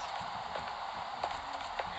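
Horse hooves clip-clopping in the video game Minecraft, a steady run of light, fairly close hoof thuds over a constant background hum.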